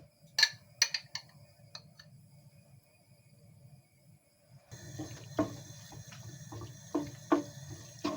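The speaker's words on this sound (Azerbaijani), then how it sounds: "biraz su əlavə edirəm." Water splashes into a cooking pot on a kitchen stove while a Kayseri-style dish is being cooked. Soft trickles and light clinks come first, then a steadier pouring and bubbling with small taps close by.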